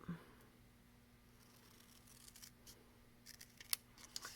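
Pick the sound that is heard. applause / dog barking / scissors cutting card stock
scissors cutting card stock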